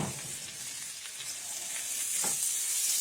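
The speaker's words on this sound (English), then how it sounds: "we're going to saute these until they're tender" Diced peppers and onions sautéing in a pan give a soft, steady sizzle with a bright hiss on top, moderately faint and continuous, a few light stirring scrapes near the end, no voices.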